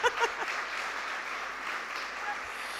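Audience applause at a church women's meeting, a steady moderate wash of clapping from a room full of people, with a few voices briefly audible at the start.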